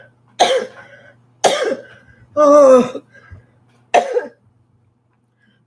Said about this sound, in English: it just hurts so bad when I cough